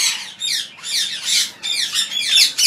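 A large parrot at a parrot farm squawks loudly and close, giving a rapid series of harsh, grating calls in several bursts with short gaps between.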